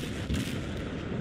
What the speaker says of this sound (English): I'm going to keep on pounding him with gunfire